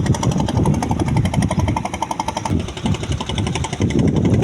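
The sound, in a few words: engine boats passing one after another on Jamuna river branch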